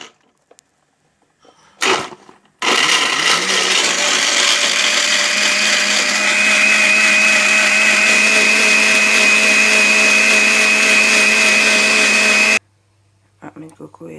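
A kitchen blender whirs loudly and steadily for about ten seconds while blending coconut, preceded by a short burst and ending abruptly.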